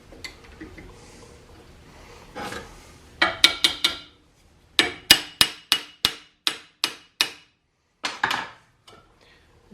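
A hammer beats a pallet wood pry bar held in a clamp: a quick group of sharp, ringing knocks, a pause, then a steady run of about a dozen evenly spaced blows and two final strikes, loud and near with no talking.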